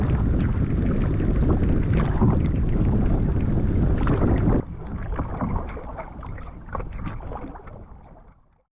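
A canoe is paddled across a lake among rocky, regrown hills, with wind buffeting the microphone and water sloshing close by; the rushing noise drops and softens partway through before fading out.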